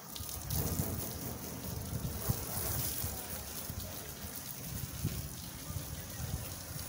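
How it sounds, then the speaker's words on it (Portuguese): Water sprays steadily onto a car at a car wash, a continuous hissing, splattering rush close by that swells and eases slightly, with no talk over it. "agora tá jogando água"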